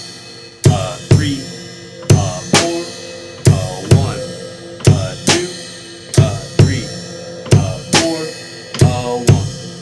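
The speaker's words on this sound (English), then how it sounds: "when we bring the snare in on the 2 and 4, it sounds like this" Blues shuffle played on a drum kit, with steady bass drum and cymbal and the snare cracking on beats 2 and 4 in a loping, even pattern. A voice counts along softly over the beat.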